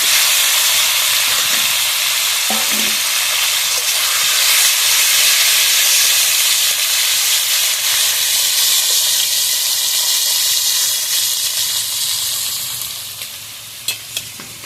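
Bhetki fish bones frying in a small amount of oil, a loud, dense, continuous sizzle up close that eases slightly near the end, broken by a couple of light clicks.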